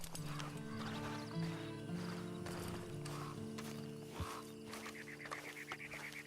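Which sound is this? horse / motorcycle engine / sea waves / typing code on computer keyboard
horse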